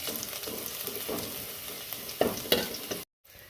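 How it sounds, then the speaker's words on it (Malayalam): Chopped shallots and mustard seeds fry in coconut oil for a Kerala curry, a close crackling sizzle with popping bursts and a couple of louder stirs before it cuts off abruptly near the end. "ഇനി അരിഞ്ഞു വെച്ച കൊച്ചുള്ളി ഇതിലേക്ക് ഇട്ട് കൊടുക്കുക"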